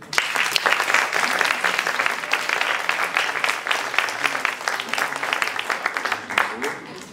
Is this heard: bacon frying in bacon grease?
no